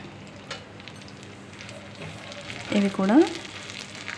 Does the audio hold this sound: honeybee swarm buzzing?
no